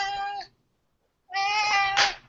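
A cat named Suno meows twice close by, each cry long and loud with rich harmonics, separated by a brief silence.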